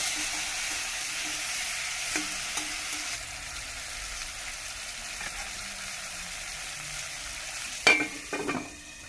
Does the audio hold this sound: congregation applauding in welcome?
no